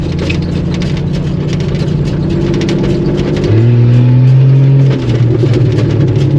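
A Jeep 4.0 straight-six engine runs close and loud, idling with a steady low drone, then revs up to a higher held pitch for a second or so before dropping back to idle.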